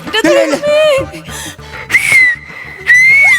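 A person whistles in short, loud, sustained tones during a chase scene, with excited voices and shouting mixed in around the whistles.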